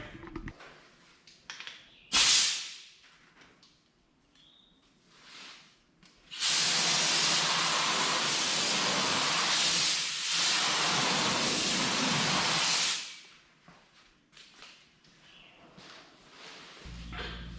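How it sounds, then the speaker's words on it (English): A spray gun sprays sealer on a 1978 Scout II at home without a paint booth, hissing in one long steady burst lasting several seconds, preceded by a short sharp spurt and some quiet handling sounds. "So it's time to start spraying."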